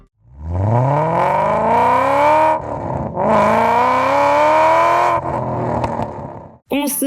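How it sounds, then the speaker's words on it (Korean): A loud Panthera active exhaust sound system on a Renault Grand Koleos revs up, rising in pitch and holding a throaty roar, cuts briefly, then revs again before dropping off; close by, no talking. "독일 프리미엄 액티브 사운드 판테라."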